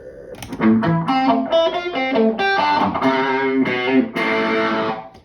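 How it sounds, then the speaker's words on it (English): An electric guitar with distortion and a sweeping phaser effect plays a series of chords and melodic notes, swirling and loud, with no voices. "That's phaser with distortion."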